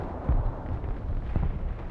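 Distant artillery fire in the combat game Broken Arrow, two low, rumbling booms about a second apart over a steady battlefield rumble.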